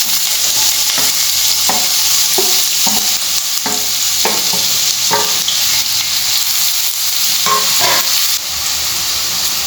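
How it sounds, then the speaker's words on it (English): Chopped onions and chilies saute in hot oil in a pan for a Goan prawn curry, giving a loud, steady sizzle broken by repeated scraping stirs of the spoon, close and with no talking. "Now we'll add our chopped onions and chopped chilies."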